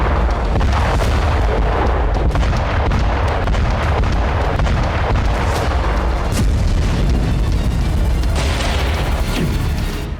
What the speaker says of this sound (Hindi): रूस ने डोनेस्क में कई फैब 500 बम दागे।